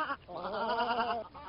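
A sheep bleats once in a long, wavering cry that stands alone, loud and close, as part of a herd scene in the children's fable of the boy who cried wolf.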